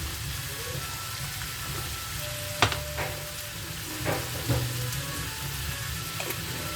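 A gratin filling seasoned with sweet pepper, salt and parsley fries in a pan with a constant crackling sizzle, broken by several distinct utensil scrapes and knocks as it is stirred up close.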